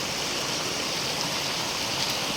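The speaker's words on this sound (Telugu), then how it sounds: "కొండలపై నుంచి ఇట్లా వాటర్ వస్తుంటాయి." Water flows down from the hills near a hillside temple cave, a steady broadband rush like a stream or small fall, even and continuous with nothing else heard.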